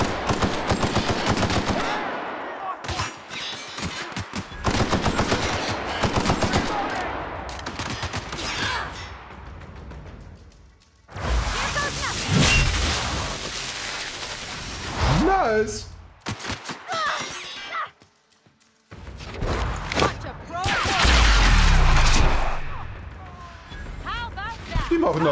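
Video game gunfire in The Outer Worlds on Switch: rapid bursts of automatic fire and scattered single shots, loud and close, recurring through the clip with brief quiet gaps, while someone talks over it in places.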